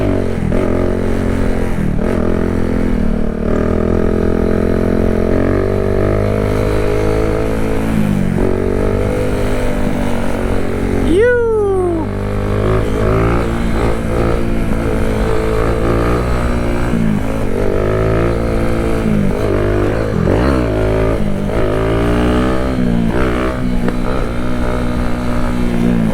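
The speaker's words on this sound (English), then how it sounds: "let's get us a little warm-up wheelie in." Motorcycle engine revving hard for a wheelie, loud and close, with rising and falling throttle surges, one sharp climbing rev midway and steady wind-blown drive throughout.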